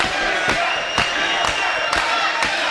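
A wrestling crowd at a UCW championship match roars loudly and steadily, with heavy rhythmic thuds landing about every half second beneath the cheering.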